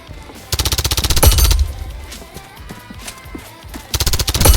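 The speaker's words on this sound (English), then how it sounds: "we just decided to make the gun with the most recoil possible." A high-recoil automatic gun fires in the Roblox game Operation One, with loud, rapid bursts of shots near the start and again near the end and lighter gunfire and game noise between them.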